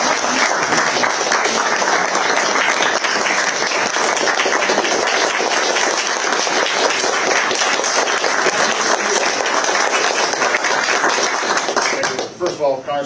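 Sustained audience applause for Senator Ron Johnson at a briefing, dense and loud clapping from a sizeable crowd filling the room, continuing evenly for over ten seconds before tapering at the end.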